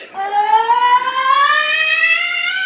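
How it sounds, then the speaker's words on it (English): A voice yelled into a spinning electric fan comes out as a steady, loud warbling tone that rises slowly in pitch and is held for a few seconds without a break, chopped and wavering like a siren. "we discovered that by yelling into the fan, we can change"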